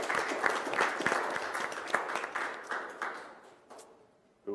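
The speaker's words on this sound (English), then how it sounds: "round of applause for Nicholas Neiman" Applause from a small group at a county board of supervisors meeting honoring a blood donor, scattered claps filling the room for several seconds before thinning out and fading.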